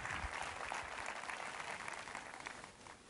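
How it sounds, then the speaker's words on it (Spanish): An audience at a presentation on Creative Cloud video gives a fairly quiet, dense round of applause that fades slightly toward the end. "aplauso fuerte para Tony"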